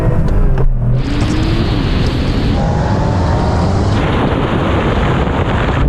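A Porsche 911 Turbo of the 993 generation launches hard in a drag race, a loud, steady broadband roar mixed with heavy wind buffeting that holds throughout with no break.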